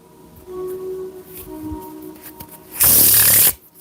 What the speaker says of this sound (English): I do the Pharaoh shuffle.